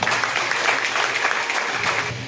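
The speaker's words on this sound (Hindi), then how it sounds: "सबके लिए जोरदार तालियां" A crowd at a motivational business gathering in Jharkhand claps enthusiastically, a brief dense burst of applause that stays loud and even from start to finish.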